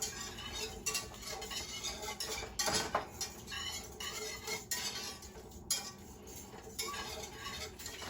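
Canned Great Northern beans are stirred in a warming pan, with faint, close scraping and clinking of a utensil against the pan in irregular strokes and a soft sizzle beneath.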